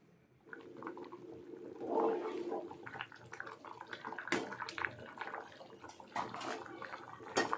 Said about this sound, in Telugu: ఈ రైస్ని మరుగుతున్న ఎసర్లో వేసుకోవాలి